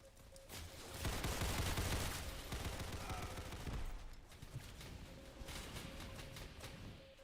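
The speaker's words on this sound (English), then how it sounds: "What is that noise? Where does this gunshot sound from?" Gunfire in the trench warfare video game Entrenched, with rapid bursts of distant shots and rattling volleys carrying on as a continuous muffled barrage.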